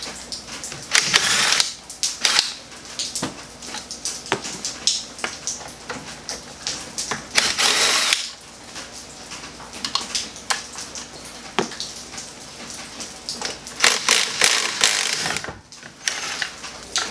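A ratchet works loose 15 millimeter bolts on a drum brake assembly, with bursts of rapid clicking and metallic clatter broken by short pauses, close by and without speech.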